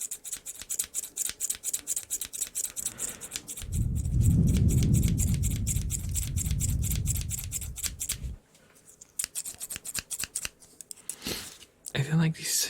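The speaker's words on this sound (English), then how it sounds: "I don't like these scissors because they have like a very thick red handle and they click when you cut with them." Scissors with a thick red handle snip through paper in quick, repeated clicking cuts, close and crisp, with a stretch of low rubbing noise in the middle and no talk.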